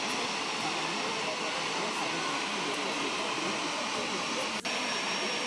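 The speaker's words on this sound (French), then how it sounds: "l'avion transportant le pape atterrit à l'aéroport de Kinshasa le mardi 31 janvier" Papal aircraft landing at Kinshasa airport, a steady broad jet roar filling the whole stretch at moderate loudness, with a brief sharp click near the end.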